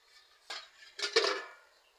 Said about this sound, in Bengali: ঢাকনাটা খুলে নিচ্ছি আমি